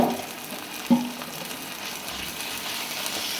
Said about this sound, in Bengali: এবার আমি আদা রসুনের পেস্টটা দিয়ে দেব সামান্য।